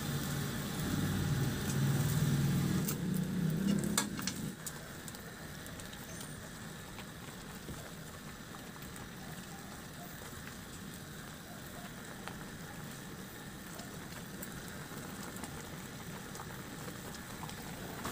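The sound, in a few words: coconut milk simmering with fried tilapia in pan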